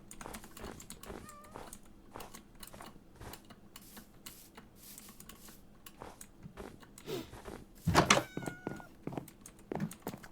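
A cat in the Minecraft video game gives several faint meows over soft keyboard typing and mouse clicks, with a louder burst of in-game sound near the end.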